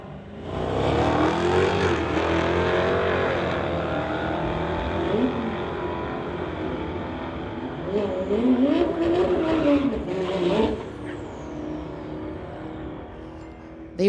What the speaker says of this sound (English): Wood pulling up in his 72 Nova from Mission going against Clayton Schultz. 2019 Dodge running a 392 Hemi.